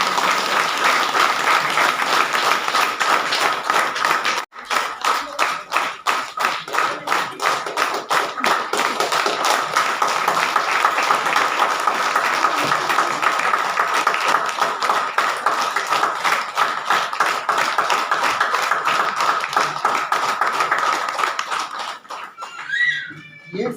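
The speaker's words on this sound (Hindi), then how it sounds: "तो जोरदार तालियों से स्वागत कीजिए" An audience at an event applauds loudly for nearly twenty-five seconds, a dense, steady clapping that dips briefly once, then fades near the end, with a few voices faintly underneath.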